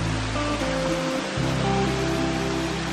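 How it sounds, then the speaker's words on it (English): A big waterfall pours down a high rock face near an old rock slide, its steady roaring rush of water close and constant throughout, with no voices. "right underneath this big waterfall, pretty high up there."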